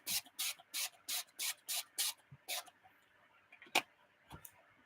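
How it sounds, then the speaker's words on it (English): Short bursts from a paint sprayer spraying yellow and blue paint, about eight rhythmic hissing sprays in a row, then a pause and one more sharp spurt, close and clear. "I got more of a squirt than a spray on that one."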